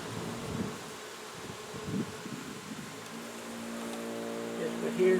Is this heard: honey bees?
yes